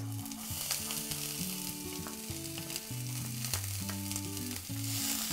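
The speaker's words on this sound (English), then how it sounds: "I'm going to add a little bit of garlic, a little ginger, some green chili, slit green chili, and I'm going to add onion to this." Onion frying in hot oil with garlic, ginger and slit green chili, a steady close sizzle running throughout with music playing over it.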